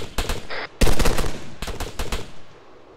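Loud bursts of video game machine gun fire hammer out in rapid clusters, with a short pause between volleys and a few sharp shots trailing off at the end.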